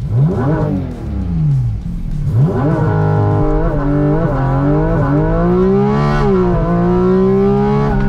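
A Porsche 718 Cayman GT4 RS launches hard, its engine howling loud and close as it climbs through the revs in rapid rising sweeps, each quick gear change briefly dropping the pitch before it climbs again.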